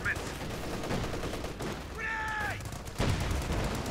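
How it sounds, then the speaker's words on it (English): Artillery and gunfire in Company of Heroes 2 sound as scattered muffled blasts and crackling shots under a dense battle din, with a sharper impact near the end and faint tonal effects in between. "Bit of artillery going on there, I imagine."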